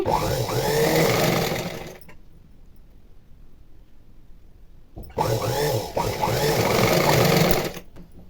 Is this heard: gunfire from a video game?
no